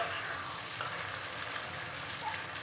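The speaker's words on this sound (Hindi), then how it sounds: "ये देखिए थोड़ा सा ये हो जाएगा फ्राई हल्का सा ना।" Goat brain (maghaz) sizzling lightly in a hot pan while being stirred, a steady close crackle with no voices over it.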